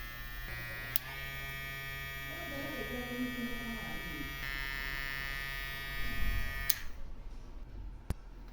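A VGR V-640 hair trimmer with ceramic DLC blades, rated 7,000 to 9,000 RPM, runs with a steady, close electric buzz and hum for several seconds before switching off with a click.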